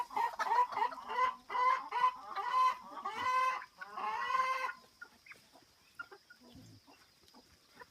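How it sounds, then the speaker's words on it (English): Small bantam chickens cluck and chatter close by in a rapid run of short, bright calls, then fade to sparse, quieter scratches and soft sounds on a farm. "Some of my little bantams are coming down to visit."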